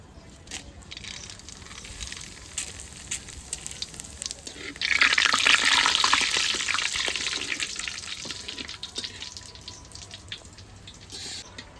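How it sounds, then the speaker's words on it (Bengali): Bay leaf, dried chilli and cumin hit hot oil with a sudden loud sizzle midway through, which settles into a steady crackle over background kitchen noise during home cooking on a rainy day. "আমার তেল গরম হয়ে গেছে এবার ফোড়নে দেবো তেজপাতা শুকনো লঙ্কা আর জিরে"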